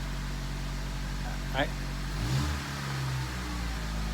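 A 2003 Honda CR-V engine, just after a timing chain repair and with a suspected bad muffler, idles with a steady low drone, swells briefly midway, then settles, with a short bit of voice.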